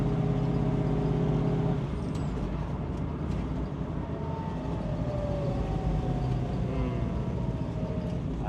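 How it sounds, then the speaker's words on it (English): A 1969 Mustang Mach 1 428 Cobra Jet's 4-speed transmission hums and whines while driving, with rising and falling tonal pitches over a steady low road rumble. "I love the whine these transmissions make on diesel."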